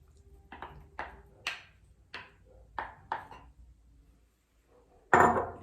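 Cooked eggplant pieces are tipped into a pan of cooked tomatoes for shakshuka, giving a series of sharp clinks and knocks of a utensil against the pan, about seven evenly spaced taps, then a louder clatter at the end.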